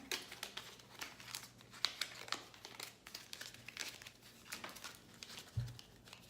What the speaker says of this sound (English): You gotta shuffle them easy, because I tell you, they're kind of hard.